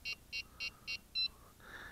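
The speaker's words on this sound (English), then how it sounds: "You just turn on the transmitter until you hear a beep" A WLToys V646 nano drone radio transmitter powering on: four short, evenly spaced high beeps followed by a slightly longer, louder fifth beep, clear and close in a quiet room.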